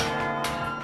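Carillon bells at Mayo struck metal on metal by clappers, dense ringing tones layered together with a fresh strike midway, loud and sustained, no talk.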